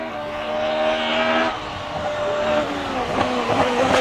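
A GT race car climbing a hill at Mont-Dore Chambon-sur-Lac, its engine roaring loud and close with harmonic tones that hold steady, drop at a gear change, then rise again as the car accelerates away.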